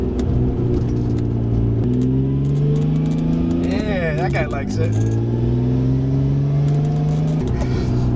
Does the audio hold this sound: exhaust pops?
yes